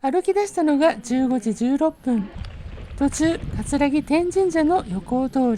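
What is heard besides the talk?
No everyday noises stand out.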